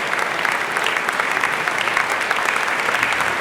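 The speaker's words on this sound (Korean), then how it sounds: "이스라엘 관객들이 열렬한 박수로 그를 환영한다." An Israeli concert audience applauds as pianist Paik Kun-woo walks onstage, a warm, steady wash of many hands clapping, even and sustained throughout.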